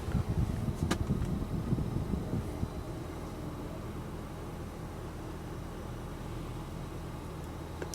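A Ryko automatic car wash system runs with a steady low mechanical rumble and broadband spray-like hiss, louder for the first few seconds and then holding even, with no talking.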